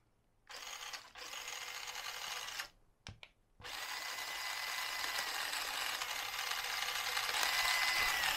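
Electric 360 motor of an MN128 RC car spinning up, a whining buzz starting and stopping in short bursts, then running steadily and gradually growing louder at higher speed.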